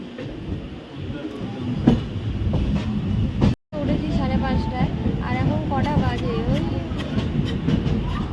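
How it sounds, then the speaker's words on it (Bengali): Passenger train on a journey to Puri easing to a halt at a railway station, with steady rumbling rail noise and wheel clatter throughout, a brief cutout midway, and people talking over it. "স্টেশন এখানে ট্রেন দাঁড়াবে"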